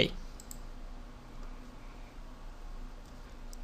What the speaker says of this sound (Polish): Jeśli wszystko jest poprawne, klikamy na klawisz OK.